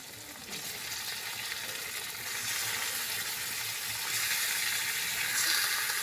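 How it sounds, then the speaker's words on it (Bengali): Meat drops into spices frying in hot oil and sets off a loud, dense sizzle that swells and grows steadily stronger, with no talking. "এবার আমি মাংসটা দিয়ে দেবো।"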